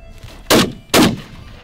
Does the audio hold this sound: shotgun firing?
yes